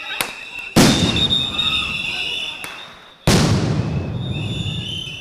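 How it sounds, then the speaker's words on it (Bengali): Two loud sound grenade blasts during a police action against a protest on a university campus, each a sharp bang with a long echoing decay, with faint crowd noise between them. "বেশ কয়েকটি সাউন্ড গ্রেনেড বিস্ফোরণেরও শব্দ শোনা যায়।"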